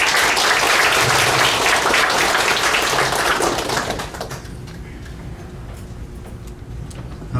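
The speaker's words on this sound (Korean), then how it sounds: "이성윤 교수님께 큰 박수를 부탁드립니다" Audience applause for Professor Lee Sung-yoon at a reunification lecture, a loud sustained wash of clapping that fades after about four seconds into quiet room tone.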